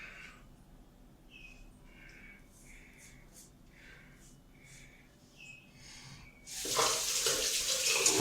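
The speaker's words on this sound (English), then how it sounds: "you need to rinse out your head with cold water" A tap runs water into a sink for rinsing a freshly shaved head, starting abruptly as a loud close gush after a stretch of quiet breathing and faint shuffling.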